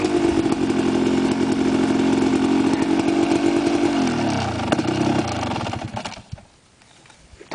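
A motorcycle engine on a dirt trail runs loud and close at a steady high rev, then its pitch drops and it sputters down to a low idle near the end.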